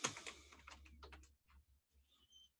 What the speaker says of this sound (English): let me see if I could type it in at the same time